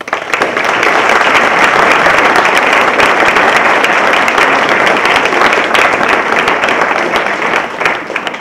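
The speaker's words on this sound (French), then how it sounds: "On peut l'applaudir." Loud, dense applause from a concert audience welcoming a Québécois singer-songwriter, a sustained wash of many hands clapping evenly for over eight seconds.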